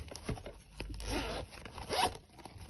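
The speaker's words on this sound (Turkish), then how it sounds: "içinde bir tane daha fermuar var. Açıyorum burayı da." A zipper on a plush carrot-shaped pencil case is pulled open close up in two or three quick rasping strokes, with soft fabric rustling between them.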